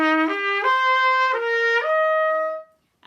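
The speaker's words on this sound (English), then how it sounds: "So her motif will be a bit higher and more delicate and will sound like this" Brass sounds a higher, more delicate Mummy Bear motif, a short run of connected rising and falling sustained notes ending on a held tone that fades away, close and clear with no voices.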